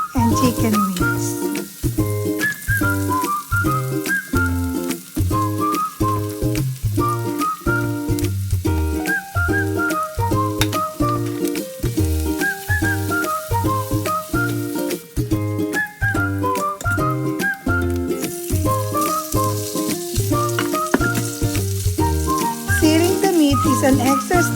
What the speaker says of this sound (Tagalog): Set aside on the pan to sear the braised pork belly and chicken wings.